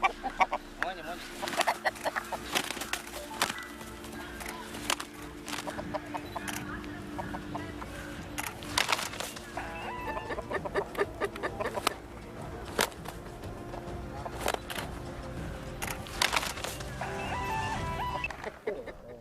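Roosters raised for cockfighting cluck in an enclosure, with repeated short calls near and far over a busy background that includes some faint voices.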